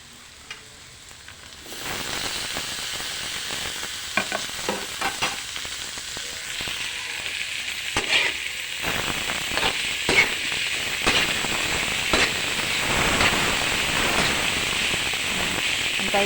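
Bitter gourd and tomatoes fry and get stirred in a pan, making a steady close sizzle with scattered scraping clicks of a utensil that starts about two seconds in and carries on without talk.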